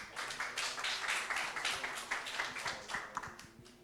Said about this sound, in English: Ladies and gentlemen, a round of applause as well.